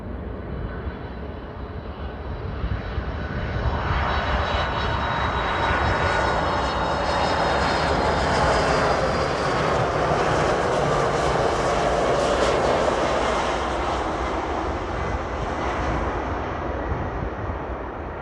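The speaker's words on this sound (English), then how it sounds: "That is a Boeing 747-481 BDSF from Soprana Airlines, Flight 7463" A Boeing 747-481 BDSF freighter from Soprana Airlines, inbound from Mexico City, passes at O'Hare with a loud, broad engine roar that swells and holds steady for many seconds, with no voices.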